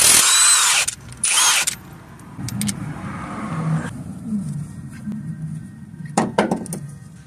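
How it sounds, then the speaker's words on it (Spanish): Power tool spinning off the 19 mm crankshaft pulley bolt on a Toyota engine during timing chain work: two loud, harsh bursts of a second or less at the start, then quieter rustling and a brief rattle later. "ahora vamos a sacar la polea del eje cigüeñal ahí. Y es un tornillo de 19 milímetros"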